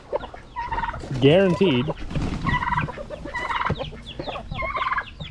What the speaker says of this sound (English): the turkeys are going nuts in the background